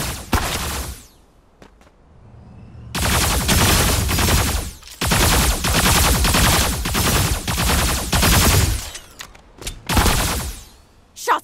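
Repeated bursts of video game gunfire from Boltus Super Mecha Champion, loud sustained volleys with brief pauses between them, and no talk over the shooting.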